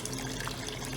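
Water pours from a floating tap garden water feature built over a pot, a faint steady splashing trickle with no talking.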